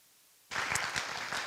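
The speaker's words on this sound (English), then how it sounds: "So can we please real quick give a round of applause to Professor Nathan Young." A college concert audience at Kaskaskia College breaks into applause after a brief quiet moment. Clapping starts abruptly and fills the rest of the short stretch as a dense burst.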